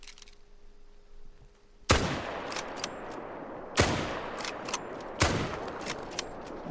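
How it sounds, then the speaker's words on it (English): Two loud rifle shots fired at a buck in a hunting video game, each a sharp crack with a long decaying tail, spaced about two seconds apart, followed by a third similar report; faint hum before the first. "put 2 shots"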